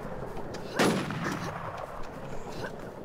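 A single loud gunshot rings out in a video game shooter, followed by fainter distant shots and game ambience, with no talking in the brief stretch.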